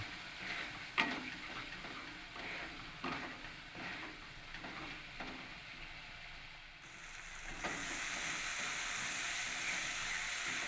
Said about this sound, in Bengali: সমস্ত গুঁড়ো মশলাগুলোকে দিয়ে ভালো করে আবার কিছুক্ষণ আমি কষিয়ে নেব।